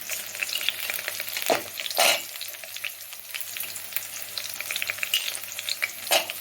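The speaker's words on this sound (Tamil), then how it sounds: "வெங்காயம் போட்டு கொஞ்சம் நல்லா வதக்கி விடுங்க" Onions sauté with garlic in a pan for an Andhra-style spicy chutney, a close, steady sizzle broken by a few louder scraping stir strokes, with no voices.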